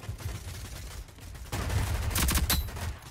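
Rapid gunfire bursts in the online shooter Rogue Company, with quieter shots at first, then a louder, dense volley of fusillade and automatic fire in the second half, no talking over it.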